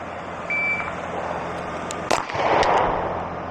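A Beretta PX4 Storm Compact Carry 2 pistol fires at an outdoor range: one sharp, loud report with a short echoing tail, over steady background rumble and a brief electronic tone earlier.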